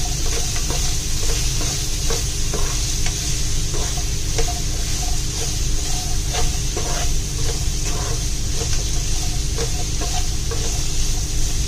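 Sliced onions sautéing in oil in a pan for a Kerala-style prawn roast, an even close sizzle punctuated by repeated scraping stirs at a loose rhythm, with no one speaking.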